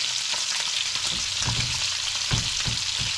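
Hash browns frying in a skillet for an egg skillet dish, a steady broad sizzle with occasional soft scrapes and clicks of a big spatula, close and continuous with no talking.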